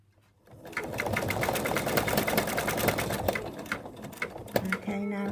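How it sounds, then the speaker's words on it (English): An embroidery sewing machine stitching an in-the-hoop zipped ladybug purse starts up and runs a fast, steady mechanical needle rhythm up close, with a voice talking briefly near the end. "So the machine now is going to go around with big stitches"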